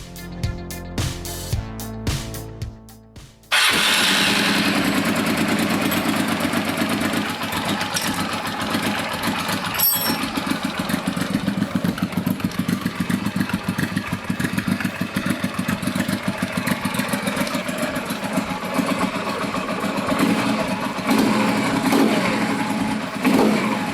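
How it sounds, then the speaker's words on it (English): A 1988 Honda Africa Twin XRV650 motorcycle engine with a newly installed Ignitech CDI cranks briefly, fires up, then settles into a steady, loud, rattling idle that runs on without a break. "let's start the engine"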